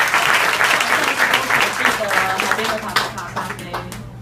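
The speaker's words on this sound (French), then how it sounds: "On peut les applaudir." A concert audience in Taipei applauds, a dense burst of clapping that fades over a few seconds.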